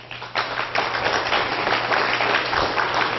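Audience applause at a 2010 UFO conference, dense continuous clapping that swells after a brief softer start and stays steady and fairly loud, with a faint low hum underneath.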